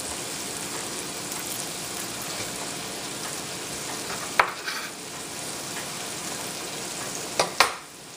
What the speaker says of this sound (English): now I'm just going to dump all of these in with the meatballs